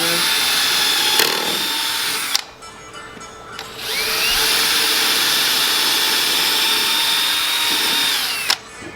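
A cordless drill whirs in a short burst, pauses, then runs a long steady stretch driving a screw into a wooden dog house, loud and close.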